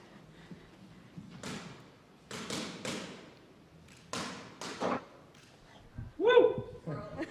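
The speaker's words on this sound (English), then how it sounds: "Give it another knock knock." Several knocks on a door, sounding as scattered hollow thumps in small clusters at moderate loudness, with a brief squeaky tone near the end and faint background murmur.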